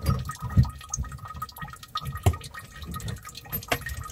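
Water leaking from a kitchen faucet supply hose under a sink, heard as close, irregular drips and splashy trickles with scattered small knocks.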